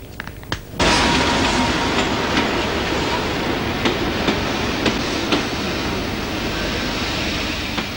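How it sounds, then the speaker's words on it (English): A train at a railway platform in Oxford: after a few sharp clicks, a loud steady rumble of rolling cars fills the scene, with faint rhythmic wheel knocks throughout. "Oxford, this is Oxford. Train at platform."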